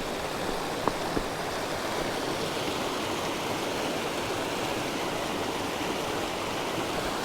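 Mountain stream on Mount Elw rushing steadily nearby, a constant broad wash of flowing water with no breaks and no voices.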